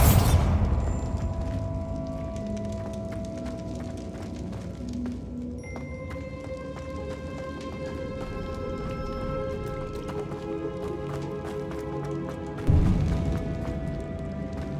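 A Bombarda explosion spell in Hogwarts Legacy opens with a loud burst that decays into a sustained ringing, musical tail, followed by a second, smaller thump near the end.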